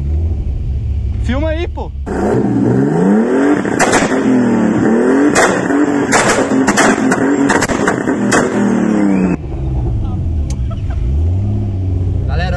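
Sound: BMW engine revving with exhaust backfire pops

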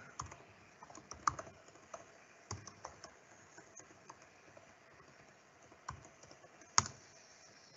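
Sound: typing a password on a computer keyboard

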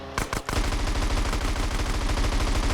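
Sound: gunfire in video game GTA San Andreas

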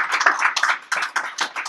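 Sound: audience applause at lecture

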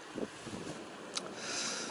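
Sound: wind blowing at a fishing spot

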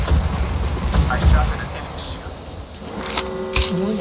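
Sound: gunfire in the video game Apex Legends

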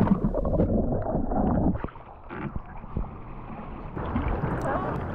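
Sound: kayak paddling across a sea channel

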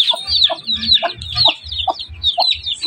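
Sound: chickens clucking at a zoo

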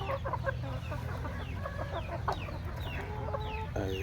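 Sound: domestic chickens clucking on a farm

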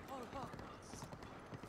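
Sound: horse hooves clip-clopping in The Legend of Zelda: Breath of the Wild video game

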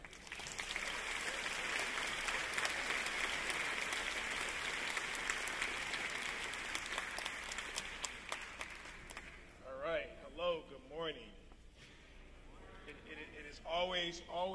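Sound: audience applause welcoming the speaker

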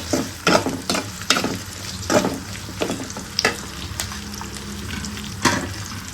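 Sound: frying dried red chillies in oil

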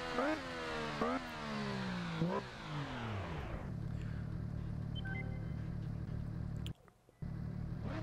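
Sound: MV Agusta Rivale 800 three-cylinder motorcycle engine, video game

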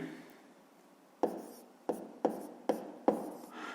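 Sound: writing math by hand

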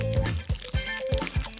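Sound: nail polish dribbled into water in zigzag motion

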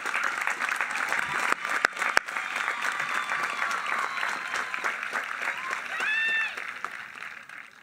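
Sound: applause for the graduating class at a graduation ceremony

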